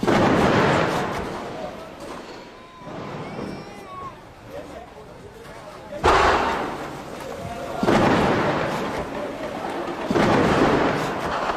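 Gunfire from a gun battle comes in heavy, booming bursts that repeat every couple of seconds over a rumbling, chaotic background. A voice talks over it.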